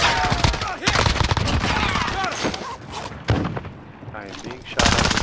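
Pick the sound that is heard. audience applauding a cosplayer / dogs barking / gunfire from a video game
gunfire from a video game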